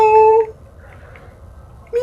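A person imitates a cat by voicing short meows, one at the start and another at the end, both close and loud, with near silence between them.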